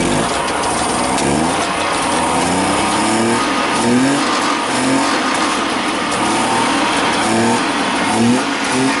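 A 1967 DKW Vemaguete engine, known to suffer a chronic ignition fault, runs steadily with a rough, throbbing idle and rises in revs, loud and close throughout with no voices over it.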